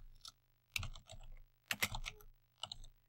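A computer mouse clicks in quick bursts while shipping software is worked on, the sharp taps close and fairly quiet, grouped in short clusters separated by brief pauses.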